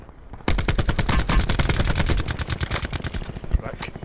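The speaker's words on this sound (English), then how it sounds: "He's shooting at you" Rapid automatic gunfire in Call of Duty Blackout, a battle royale video game, starts abruptly and rattles on in a loud, fast, sustained burst with a few isolated shots near the end.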